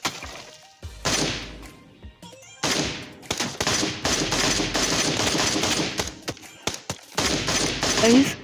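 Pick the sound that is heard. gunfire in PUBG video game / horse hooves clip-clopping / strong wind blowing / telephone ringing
gunfire in PUBG video game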